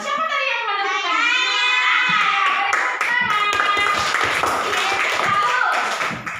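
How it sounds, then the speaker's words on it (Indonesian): Schoolchildren in a classroom clap together in a quick rhythmic burst, close and loud, with children's voices chanting and calling out over the clapping. "Tepuk tangan untuk siapa tadi yang menentukan?"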